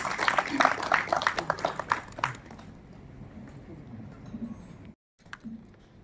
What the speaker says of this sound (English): please give a big round of applause to Manna and all the accompanying musicians